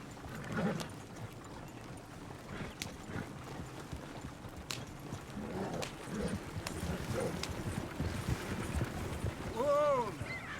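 Horse hooves clip-clopping at a steady trot in the Western video game Red Dead Redemption 2, rhythmic and fairly close, with a brief whinny near the end and occasional speech mixed in.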